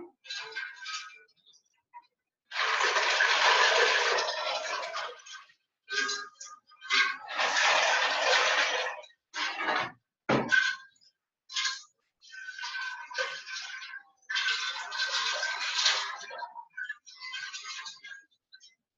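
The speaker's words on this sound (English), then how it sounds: "we're going to add ice into the brine solution. Just stir it in until it's cooled down." Ice clatters and scrapes in a pot of turkey brine as it is stirred, with bursts of rattling, cracking and swishing broken by short pauses, close and fairly loud.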